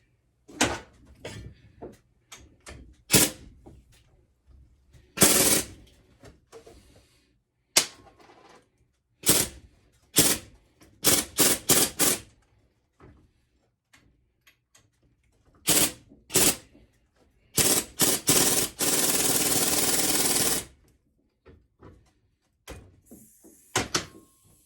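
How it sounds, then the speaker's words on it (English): Tools clank and clack on a Hyundai Sonata coil spring as a spring compressor tightens it, scattered sharp metallic knocks and clicks with pauses between, then a few seconds of steady ratcheting buzz near the end. "I have to compress the spring a little further"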